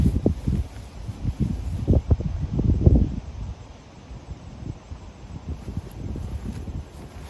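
Gusty wind buffets the microphone outdoors on a disc golf course in uneven low rumbles, stronger at first, then settling into softer, intermittent blustering.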